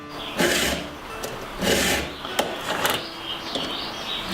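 A chainsaw chain is sharpened by hand with a file, giving three or four rough, rasping strokes separated by short pauses and light metallic clicks, close and moderately loud with no talking.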